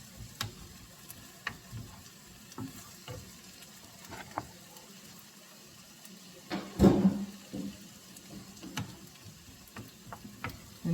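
Onions and other vegetables for Zuppa Toscana softening in a pot, with a soft steady sizzle under occasional stirring clicks and one louder scrape of a spoon midway, close and fairly quiet.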